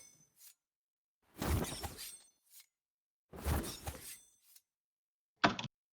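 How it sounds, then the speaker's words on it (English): Two swelling whooshes, each followed by sharp metallic swishes, and a short bright slicing hit at the end, with brief quiet gaps between. "So together with the whooshes and the daggers, that sounds like this."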